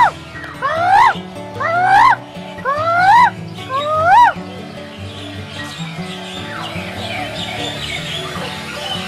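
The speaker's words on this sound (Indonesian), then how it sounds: "banyak burung, makanannya adalah pepaya sama jagung ya guys." Many birds call inside a very large domed aviary, loud rising chirps repeating in four bursts in the first half, then a dense, fainter chorus of mixed calls and twitters fills the rest.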